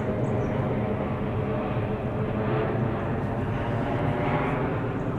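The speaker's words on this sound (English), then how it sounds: "There's a 757 going to Dubai up there." A Boeing 757 airliner passes overhead while someone fishes for catfish, giving a steady, broad rumble that holds at an even loudness the whole time, with no talking.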